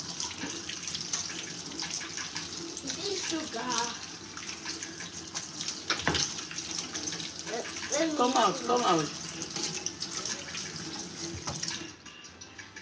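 Water runs from a kitchen tap in a steady splashing stream while people talk over it, the flow cutting off near the end.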